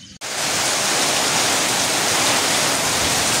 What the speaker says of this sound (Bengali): অবশেষে রহমতের বৃষ্টি